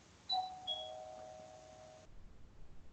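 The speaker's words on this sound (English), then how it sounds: "I've got to answer my doorbell." A home doorbell sounds two bright chime tones in quick succession. They ring out cleanly and fade before the room falls quiet, with no talking over them.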